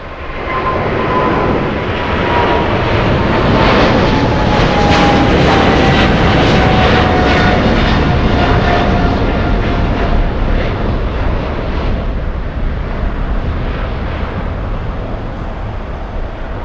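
An Air China Cargo freighter jet takes off from runway 25 left at LAX, its engines a loud, steady roar with a faint whine riding on top, sustained throughout before easing slightly at the end.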